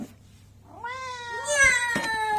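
Timmy the cat meows twice in close succession, clear, nearby and bright, with a short lead-in before the first call and no talking over it.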